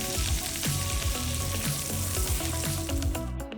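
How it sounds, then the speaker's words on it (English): Asparagus frying in butter in a pan, a loud, close, continuous sizzle with crackling pops throughout and no voices. "we're going to get some butter straight into that pan and cook some asparagus"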